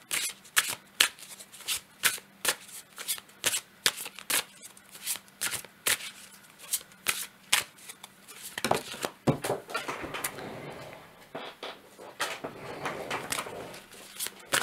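A deck of animal oracle cards is shuffled close by in rapid, crisp riffling bursts with short gaps, followed by a denser stretch of card rustling and handling.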